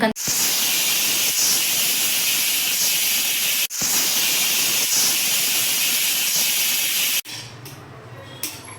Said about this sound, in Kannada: ಈಗ ನಿಬ್ನ ಕ್ಲೋಸ್ ಮಾಡ್ತಾ ಇದ್ದೀನಿ ನಿಬ್ನ ಕ್ಲೋಸ್ ಮಾಡಿ ಸೊ ನಾನು ಎರಡು ವಿಷಲ್ ಕೂಗಿಸ್ತೀನಿ